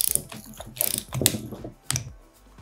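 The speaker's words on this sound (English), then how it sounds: "So please make sure you are using calibrated torque wrench." A calibrated torque wrench ratchets in quick clicking bursts while tightening an M10 resin anchor in a fischer chemical resin fixing, with several close, crisp runs of mechanical clicks separated by brief pauses.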